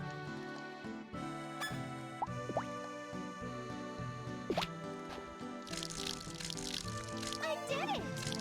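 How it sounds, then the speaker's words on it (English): Water trickling and dripping from the basic watering can in the Rune Factory 4 farming game, a steady light pour under dense game music with occasional chimes and sliding tones. "The basic water pot that you start with, if I remember correctly, has about 20 uses before it needs to be refilled."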